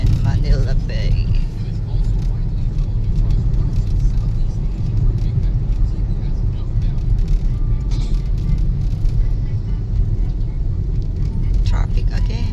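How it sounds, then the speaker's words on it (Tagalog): Road traffic in Makati, Manila forms a continuous, close drone of car engines and passing vehicles, while people talk over it throughout. "Traffic again."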